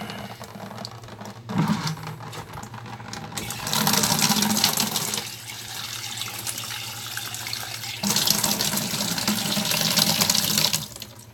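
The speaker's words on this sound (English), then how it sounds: "I gotta grab a bucket here, so I don't spill all this water on the floor." Tap water runs into a bucket beside a freshwater aquarium setup, a steady loud splashing rush that swells and eases in surges over several seconds, with no talking.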